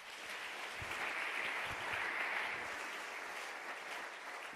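A church congregation applauds in steady, sustained clapping that fills the room at a moderate, somewhat distant level.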